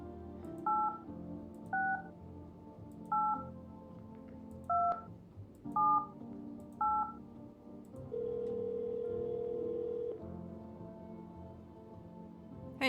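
Telephone keypad tones dialing a number in a video game, with six quick beeps at a steady pace, then a sustained ringing tone, all clear and close, with no talk.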